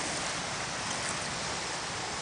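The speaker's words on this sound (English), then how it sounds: "As you can see the bubbles, there are bubbles in the water." Floodwater held in saturated ground near apartments, with creek water bubbling up through it, gives a steady, close, broadband watery hiss and gurgle with no clear breaks and no talking.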